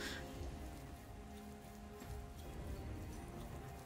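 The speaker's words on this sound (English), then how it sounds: "It's raining right now." Steady rain falls throughout the outdoor area of the Crown Tundra in the video game Pokemon Shield, a constant pattering wash over low tonal game music, with no talk.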